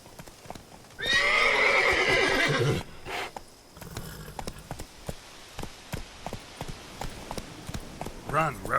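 Roach, a horse in Witcher 3: Blood and Wine, lets out a loud, close whinny, then hooves clip-clop in a rapid galloping rhythm that continues under a faint spoken line near the end.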